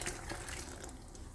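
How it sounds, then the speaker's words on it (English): Water poured from a tap or jug into a blender jar while making a simple African stew, a short continuous splashing rush close by, heard alone. "I'll add water to the blender."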